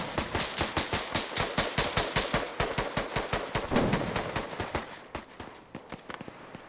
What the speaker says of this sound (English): Now you're hearing that machine gun also firing off.